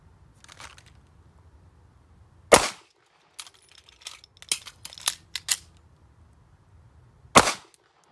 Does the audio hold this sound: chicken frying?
no